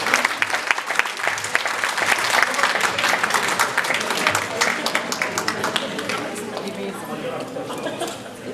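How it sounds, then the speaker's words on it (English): A crowd at a town fiesta gathering claps loudly and continuously, dense overlapping hand claps with a few louder individual claps standing out, fading a little near the end. "Big round of applause, ladies and gentlemen."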